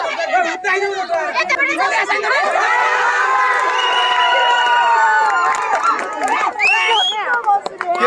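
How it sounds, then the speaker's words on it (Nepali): A school crowd hoots, cheers and shouts loudly throughout a kabaddi match at a secondary school, with excited children's voices rising and falling in a continuous noisy din. "के साह्रो हुटिङ हो यार"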